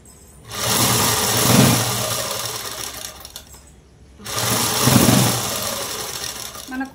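A sewing machine stitches a V-neck blouse without lining, running in two loud sustained bursts separated by a short pause, with no talking.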